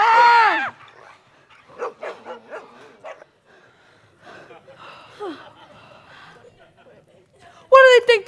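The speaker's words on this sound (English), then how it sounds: "It's just a three-headed dog." Barking sound effect for a three-headed dog in a seventh-grade school play, loud yelping barks at the start and end with young actors' voices talking and gasping in between.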